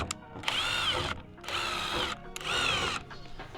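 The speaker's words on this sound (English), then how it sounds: "use your screw to tap the holes" A power drill drives a screw to tap holes in an ambulance box panel, three bursts of whirring motor, each about half a second to a second long, separated by short pauses, close and clear.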